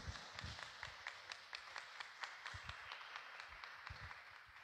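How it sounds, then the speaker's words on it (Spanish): A church congregation at mass applauds at a baptism, a steady, faint patter of many clapping hands with a few louder claps standing out. "vamos a recibir con fuertes aplausos a Alexandro Oscar."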